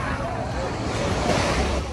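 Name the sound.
ocean waves at a beach in Ksamil, Albania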